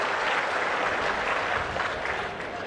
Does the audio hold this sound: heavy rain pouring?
no